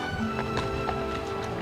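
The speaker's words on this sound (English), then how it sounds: "this is truly the first time you've ever been on a horse" Horse hooves clip-clop at an easy, uneven rhythm on a Colorado trail ride, close and fairly clear, with a steady background hum and no voices.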